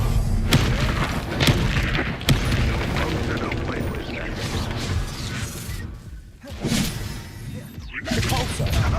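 In Hogwarts Legacy, the Confringo blast spell goes off as heavy booms, whooshes and crashing impacts in a busy duel. Sharp hits land every few seconds, and a voice shouts over the combat.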